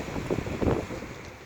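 Wind rushes across a beach on the bay at Gelendzhik, a brief, fairly faint and steady blustery hiss with a slight swell in the middle and no talking.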